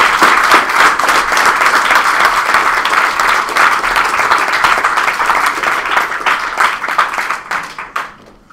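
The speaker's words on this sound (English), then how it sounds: "let's give our judges a nice round of applause" An audience at a Harvard versus Northwestern debate final gives the judges a round of applause: loud, dense clapping from many hands that holds steady, then thins and fades out over the last second or two.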